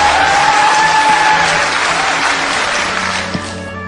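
A large audience at a talent show breaks into loud, sustained applause that fills the hall and tapers off slightly toward the end, with no talking over it.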